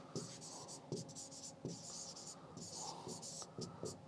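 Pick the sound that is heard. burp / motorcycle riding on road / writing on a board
writing on a board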